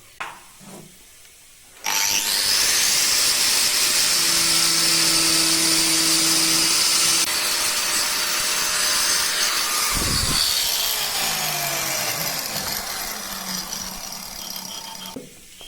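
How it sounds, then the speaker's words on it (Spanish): A power tool shapes and rounds a carved stone sculpture, a loud, continuous grinding whine that starts abruptly after a quiet opening and runs steadily to the end, easing slightly near the finish with no talking. "Con la lima ya acabamos de perfilar todo bien, dejar todo plano, redondeado."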